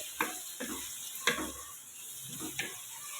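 Onions cooking in a pan for a drumstick and capsicum curry, a faint soft sizzle punctuated by several quiet scrapes and clinks of stirring, close by.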